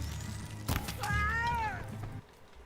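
A pet cat gives one clear, drawn-out meow up close, preceded by a short thump, with no talking over it.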